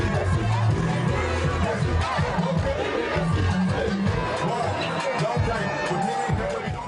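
Crowd noise at a political party rally, a dense continuous babble of many voices with cheering and chatter, loud and close throughout.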